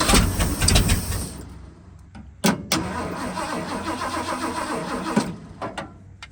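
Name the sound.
Ford F350 truck engine cranking by crossing starter solenoid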